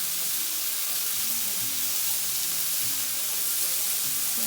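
Steak searing in a hot pan gives a steady, even sizzle and crackle of fat and juices throughout, close and moderately loud, with no voices over it.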